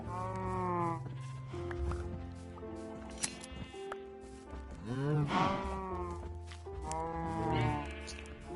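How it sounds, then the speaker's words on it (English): Crowded Minecraft automated sheep-shearing farm, with overlapping sheep bleats mixed with a few cow moos, a steady chorus of close, layered livestock calls. "The moment a sheep grows its fur,"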